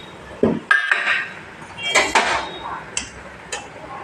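Eggplant pieces go into boiling mustard curry with hilsa fish in a pot, giving a handful of scattered clinks and knocks of utensil against metal with quiet gaps between them.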